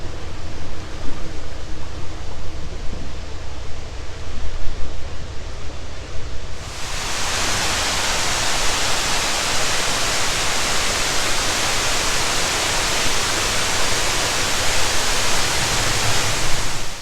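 A waterfall roars as a powerful, continuous rush of water, surging in abruptly about a third of the way in and staying loud throughout.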